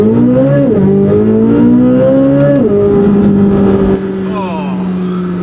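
A Corvette C8 Z06's mid-engine V8 revs hard and climbs through gears with a shift between, loud and close, then settles into a steady drone. Someone talks over it.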